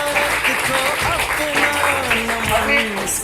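Applause from a gathering honouring ranked students as their names are called out, a dense, continuous burst of clapping mixed with voices and someone talking over it.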